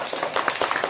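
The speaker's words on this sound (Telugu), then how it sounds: "అందరు చప్పట్లు కొట్టరే" A group of young children clapping together in a classroom after a subtraction lesson, quick irregular claps overlapping into a short, moderately loud burst with no clear steady rhythm.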